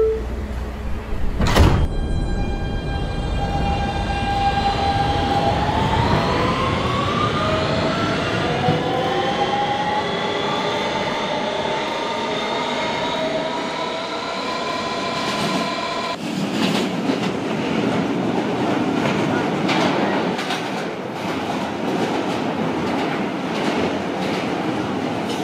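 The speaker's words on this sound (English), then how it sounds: "Stand clear of the closing doors," Roblox subway game with a Kawasaki R160B Siemens train: a sharp door clunk early on, then a long climbing electric motor whine as it departs, followed by steady rolling rumble and faint track clatter.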